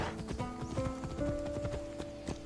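Horse hooves clip-clopping in Assassin's Creed Odyssey, a quick, steady run of hoof beats under held game music tones, close and continuous.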